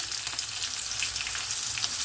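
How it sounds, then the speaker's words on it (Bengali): Chopped onion sizzles in hot mustard oil with green chilli and ginger, giving a dense, even hiss that stays constant throughout with no voices. "সর্ষের তেলে পেঁয়াজ পড়েছে"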